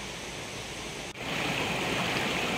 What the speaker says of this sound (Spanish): Aquí es la parte de arriba del río, aquí en Atempa.